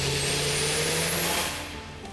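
A Mazda RX-3 with a rotary engine runs steadily close by, a loud, broad mechanical drone with a thin high whine on top that fades slightly near the end.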